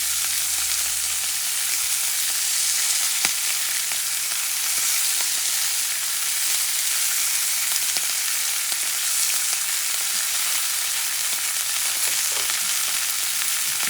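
Flank steak searing in a hot pan with garlic, giving a loud, continuous bright sizzle that holds steady throughout with faint crackles and a few small ticks, close up and with no voices.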